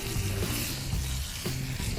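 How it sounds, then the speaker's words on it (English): Meat sears in a cast iron pan over an open campfire, a steady close crackling sizzle with faint popping that runs unbroken for two seconds, no talking. "Hear that nice sizzle?"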